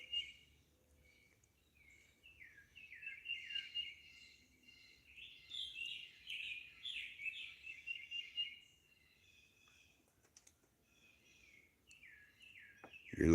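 Birds chirp and trill steadily on a spring morning at a lakeside homestead porch on Bull Shoals Lake, a mix of calls at moderate distance with a louder burst near the end.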